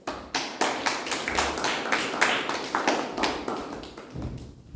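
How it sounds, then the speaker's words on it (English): Applause from a Toastmasters club audience at a speaking meeting, a room of people clapping in a brisk, uneven patter that swells and then tapers off toward the end. "A big round of applause."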